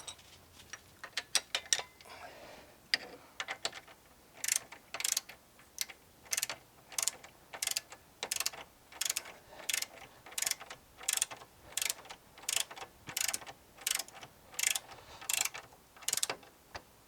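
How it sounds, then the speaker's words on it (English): A smaller torque wrench set to 46 foot-pounds ratchets as it tightens a ball joint bolt on a Can-Am Maverick Sport XRC. Crisp clicking strokes come in a steady rhythm, close and clear, with quieter fumbling at the start. "we'll get our smaller torque wrench and we'll set that to 46"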